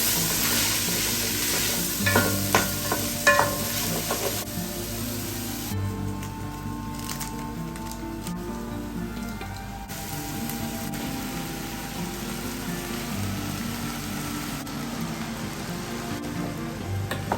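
Fried rice with liver, onions, ginger, garlic, green pepper, carrot and green beans stir-fried in a pan, a close, continuous sizzle broken by scraping and clattering strokes of the spatula, busiest in the first few seconds.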